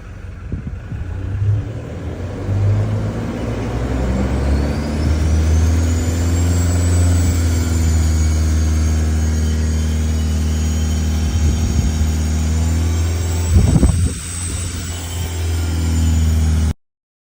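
A running car engine hums steadily at idle, then its pitch climbs as it revs to about 2,500 RPM and holds there during an alternator charging test with an X431 diagnostic scanner. The drone is close and continuous, and there is no talk.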